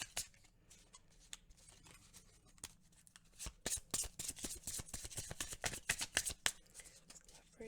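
Oracle cards shuffled close to the microphone: a rapid run of crisp riffling flutters and papery slaps that grow louder and denser midway, with brief pauses between passes.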